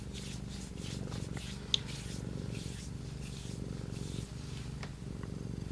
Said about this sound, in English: She does really purr loudly, doesn't she?